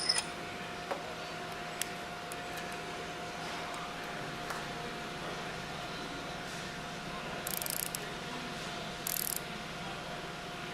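Manifold retaining bolts on a packing stack are tightened with a ratchet, giving faint scattered clicks and two short bursts of brisk ratcheting over a quiet hum.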